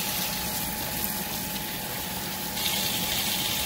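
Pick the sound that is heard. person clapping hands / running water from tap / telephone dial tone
running water from tap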